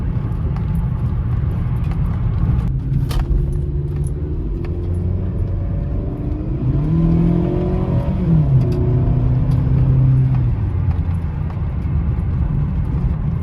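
Toyota Camry with 250,000 miles driving on the road, heard from inside the cabin as a steady low engine and road rumble with gentle rising engine tones as it accelerates, plus faint jingling of keys.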